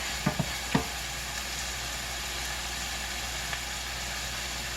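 Cauliflower and green beans frying in a pan give off a constant, even sizzle, with a few quick utensil taps near the start.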